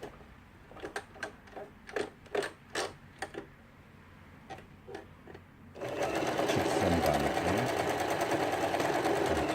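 A Lion Indigo sewing machine, about ten years old and just repaired, runs overlock stitching. A series of separate mechanical clicks and short stitch bursts is followed by a loud, steady, close running whir.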